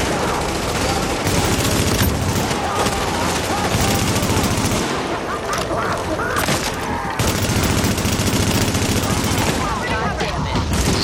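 Dense, loud video-game gunfire from The Division, with sustained automatic bursts and overlapping shots continuing throughout, while players talk over the action.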